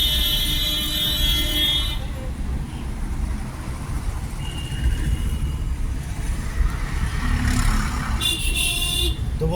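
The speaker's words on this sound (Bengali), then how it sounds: "একবার করে একটা করে হর্ন মারবে" A car horn sounds in busy office-hour city traffic during a driving lesson: sustained honks at the start and again near the end, over a constant low rumble of engines and road noise.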